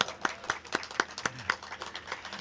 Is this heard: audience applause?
yes